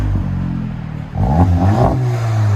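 Turbocharged engine of a 2020 VW GLI with an MBRP cat-back dual exhaust, heard close and loud from outside, idling with a low steady drone before a single sharp rev swells and settles back, with no talking.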